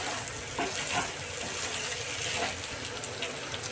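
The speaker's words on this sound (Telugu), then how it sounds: "ఇప్పుడు బాగా కలుపుకుందామండి." Bitter gourd fry with peanut powder being stirred in a hot pan, a steady close sizzle with scraping and clinking of the spatula throughout, no talking.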